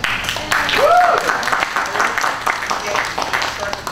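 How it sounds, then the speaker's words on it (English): A crowd at a Star Trek convention trivia tournament claps steadily for a prize winner, a sustained wash of applause with a voice talking briefly over it near the start. "Everybody give another round of applause for Ariel."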